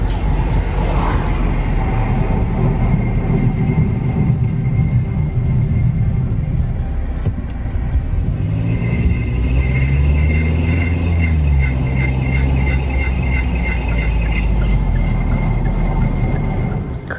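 A car on the move gives a strange noise, thought to come from the brakes. A steady road rumble runs throughout, and a rhythmic high-pitched squeal pulses over it midway.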